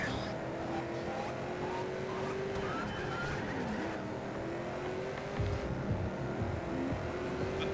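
Engine drone of a car racing in TrackMania Turbo on PS4, a steady mid-level hum with rising and falling pitch as it speeds over an air-drop track, continuous for the whole stretch beneath faint background sound.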